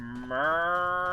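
A voice imitates a lighthouse foghorn with one low, sustained hum that steps up in pitch and then holds steady as a long, horn-like drone, close and fairly loud.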